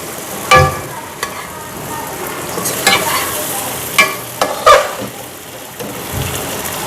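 Okra frying in a hot pan is stirred in several separate scrapes and clatters, with a steady sizzle underneath, close and fairly loud, no talk.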